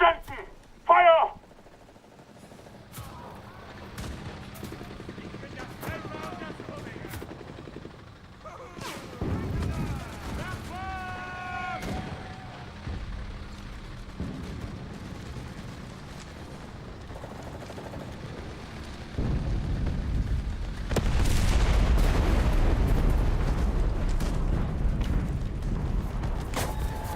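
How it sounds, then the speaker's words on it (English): Artillery shells explode across a World War II battlefield in the video game Enlisted, rolling booms and rumbling blasts mixed with gunfire, with a voice calling out briefly at the start. "Ich rufe die Artillerie!"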